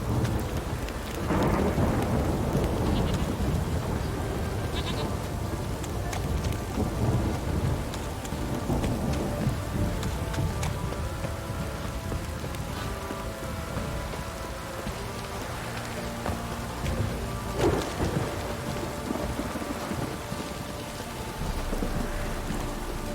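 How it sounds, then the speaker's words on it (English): Heavy rain pours down in The Witcher 3 video game, a dense steady roar of rainfall with low rolling thunder rumbles swelling several times beneath it, close and continuous with no talk. "This downpour's a bastard, it is."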